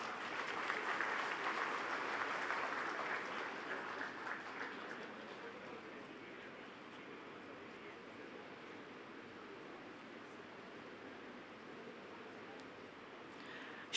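An audience at a management institute convocation ceremony applauds graduates, a full wash of clapping that starts strong, eases into a softer steady patter and carries on evenly to the end.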